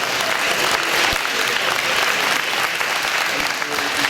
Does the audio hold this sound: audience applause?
yes